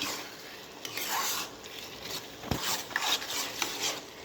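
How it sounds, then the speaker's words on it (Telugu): Boiled green peas are stirred in a cooking pan, giving soft scraping and rubbing strokes with light clinks of a spoon against the metal, close up and without talk. "ఆ ఉడకబెట్టుకున్న బఠానీలని మీరు వేసేస్తాం వేసేసి అంతా తిప్పేస్తాం"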